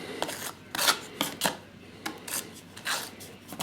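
Wall filler powder being stirred with water in a container, quiet scraping and rubbing strokes coming in irregular bursts close by, with no voices.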